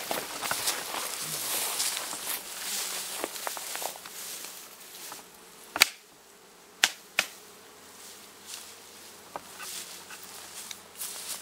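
Honey bees from a queenless hive buzz in a continuous, wavering drone outdoors at an apiary, with a few sharp knocks and thumps as the colony is shaken out onto the ground.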